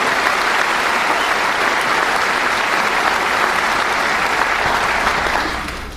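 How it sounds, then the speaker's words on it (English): A large graduation audience gives a dense, sustained round of applause that stays even and loud throughout, then begins to fade at the very end. "please join me in giving a round of applause to our Student Council Presidents, Ms. Abby Outwater and Ms. Kayla O'Shea."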